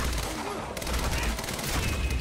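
Dense, continuous bursts of gunfire from the Quantum Break video game, loud and close, with overlapping shots rattling through the whole moment.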